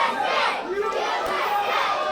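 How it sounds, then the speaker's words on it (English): A wrestling crowd at a Dog Collar match roars and cheers for Matt Quay, a dense, continuous wash of shouting voices filling the space. "the crowd getting behind Matt Quay again"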